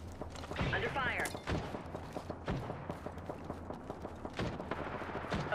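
Scattered gunfire in a video game battle royale, sharp shots popping at irregular intervals over a busy background, while a voice speaks briefly early on.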